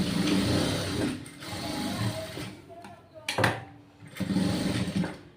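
Sewing machine running in bursts while stitching a garment waistband, a steady mechanical whir with short pauses between runs, heard close and fairly loud with some background noise.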